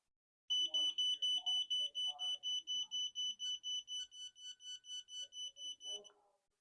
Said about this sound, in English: it will send out an emergency beep so others around you know